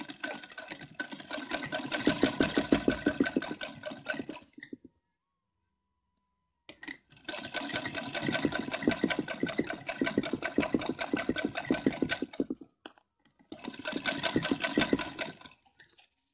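A sewing machine stitches a traditional heavy-work dress or lehenga in three long runs of rapid, even stitching, each cut off by a moment of silence.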